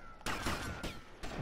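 Three loud, sharp gunshots crack out at irregular intervals in GTA Vice City, each one a sudden broadband blast with a short tail, and no voices between them.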